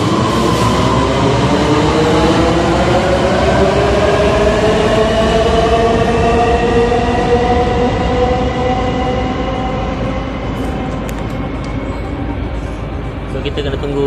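An LRT light rail train in Kuala Lumpur runs loud and close at a station platform, a sustained roar of rising and falling electric motor whine with rumbling wheels that slowly fades toward the end.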